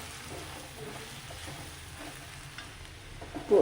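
Chicken masala and ground pepper roast in a pan with a soft, low, continuous sizzle and faint stirring, ending in a louder clatter.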